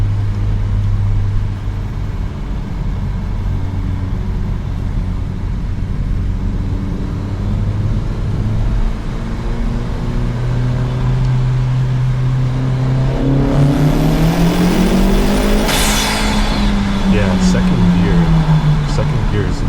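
Exhaust of a 250 whp Honda Civic Si, a steady low drone while cruising that swells near the end into a loud rising rev as the car accelerates hard, with a faint talking voice.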